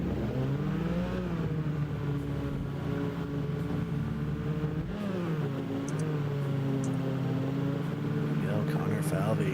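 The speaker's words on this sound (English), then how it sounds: "Connor Falvey getting the engine revved up and ready to go here." A drift car's engine revs in a virtual drift racing game, a steady droning tone that rises and falls in pitch, continuous and loud with a commentator talking over it.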